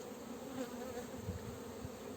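Honeybees buzz around a hive at an apiary in spring, a soft, continuous hum of many insects with a few individual bees droning close by, low and steady with no voices.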